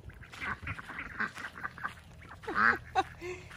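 A group of ducks quacking as they are herded: repeated, fairly close quacks in an uneven, busy rhythm, with one louder burst near the end.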